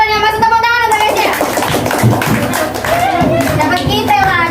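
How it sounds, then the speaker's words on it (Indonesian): A classroom of young students claps for a classmate during a lesson, a quick burst of hand claps mixed with children's voices and a teacher talking over it. "tepuk tangan untuk Kesia."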